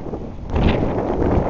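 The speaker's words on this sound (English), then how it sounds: "It is really cold and windy." Cold wind blowing across a microphone outdoors, a brief low buffeting rumble that swells partway through and stays steady, with no talking.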